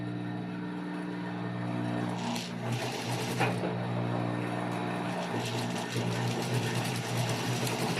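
Sewing machine stitching the lining and collar of a zippered vest, a steady continuous mechanical whir with a low hum that runs the whole time at close range, with brief changes in pace.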